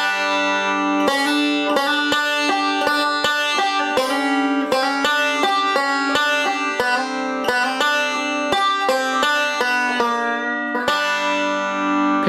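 Banjo plays a bluegrass roll very slowly, each plucked note of the chromatic run and its hammer-ons distinct and evenly spaced, bright and close with no voices.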